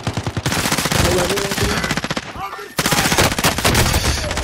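Light machine gun fire in a first-person shooter video game, rapid bursts of automatic shots ringing loud and close with a short pause mid-way, a brief word spoken over the shooting.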